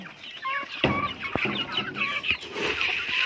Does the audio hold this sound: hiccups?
no